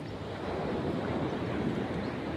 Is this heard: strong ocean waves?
yes